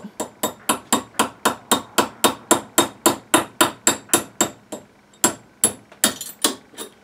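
Sharp metallic hammer blows strike a screw held with an adjustable spanner in a fast, steady rhythm, about twenty hits with a brief pause near the end, close and loud.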